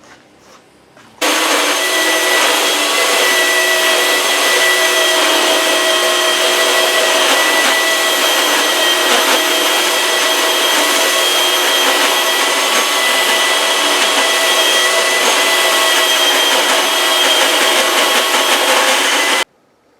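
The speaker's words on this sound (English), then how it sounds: "I'm going to go over it with the belt sander and finish it up" A belt sander sanding a full-size sword blade runs in one loud, steady whir for most of the clip, starting and stopping abruptly, with no voices.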